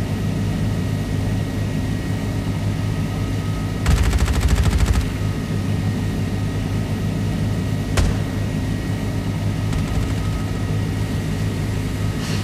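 Gunfire in the mobile battle game Farlight 84: one short rapid automatic burst and a few sharp single shots over a loud constant engine or aircraft drone.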